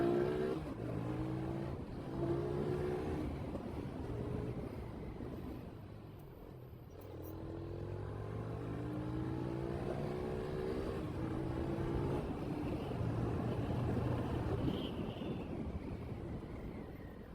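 A motorcycle rides into Khulna city traffic with a steady, moderately distant engine drone and a few swells of passing vehicles, with no talk.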